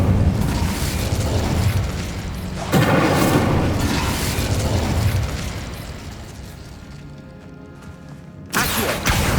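Hogwarts Legacy Incendio fire spell being cast, loud roaring bursts with a deep rumble, a fresh blast near three seconds and another at the end, continuous and close.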